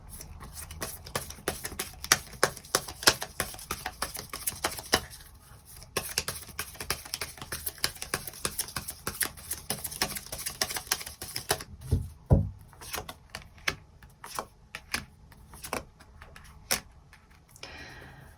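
Tarot cards being drawn and handled at close range, with a steady run of soft flicks, taps and slides, a brief thump near the middle, then sparser card snaps toward the end, and no talking.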